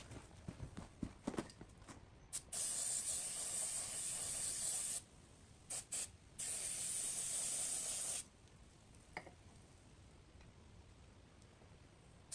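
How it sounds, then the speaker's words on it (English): Contact cleaner sprayed from an aerosol can onto a Yamaha YZ250 motorcycle clutch gear in a workshop, heard as two close hissing bursts of a few seconds each, separated by short taps and handling noises, with no talking. "turn it upside down, and get a little contact cleaner on it."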